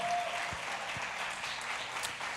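Congregation applauding during a church sermon, a steady wash of many hands clapping at moderate distance, sustained evenly throughout.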